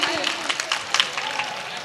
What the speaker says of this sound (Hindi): एक बार जोरदार तालियों से मुझे बता दीजिए